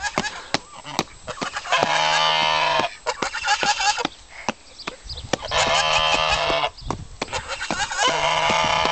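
An angry goose on Holbrook Farm in Devon honks loudly and repeatedly in long harsh blasts, up close, mixed with rustling and other farm noise.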